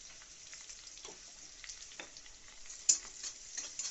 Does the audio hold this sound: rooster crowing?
no